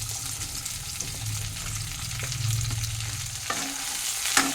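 Sliced onion, bell pepper and tomato stir-fry in a pan with a steady close sizzle, broken by occasional spoon scrapes and taps.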